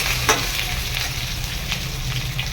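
Potatoes fry in hot oil with a steady, close sizzle and crackle running throughout, broken by a few brief stirring scrapes and no talking.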